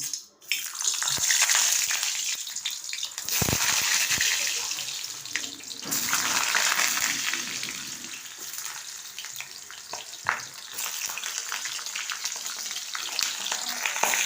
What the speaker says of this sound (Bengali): এবার এটাকে আমি তেলে ভেজে নেব।